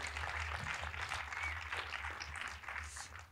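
Audience applause at a French cinema-club screening event, a dense continuous patter of many hands clapping at moderate distance, steady across the whole stretch with no voices standing out.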